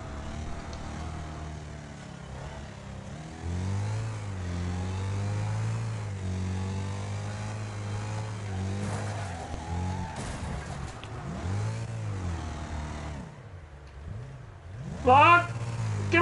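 Race car engines roar in the demolition racing game Wreckfest, their pitch climbing and dropping as they rev and shift, loud and continuous, with a quick high whine near the end.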